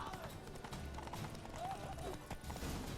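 A horse gallops steadily in The Witcher 3: Wild Hunt, its hoofbeats a continuous close clip-clop over busy game ambience with faint voices.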